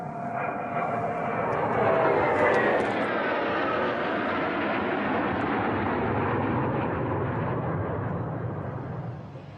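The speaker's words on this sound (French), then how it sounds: "les jets algériens violeront à 2 reprises l'espace aérien du Mali" A military jet roars overhead over the Sahel near the Mali border, rising to a loud broad rush around the middle and holding as a sustained thunderous drone before slowly fading, alone without voices.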